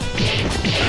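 Two heavy impact hits from Alex's Flash Chop in the Street Fighter III fighting game, each a loud crunching smash with a short swish, landing in quick succession over constant game background noise.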